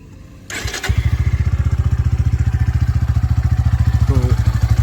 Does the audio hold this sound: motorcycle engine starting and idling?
yes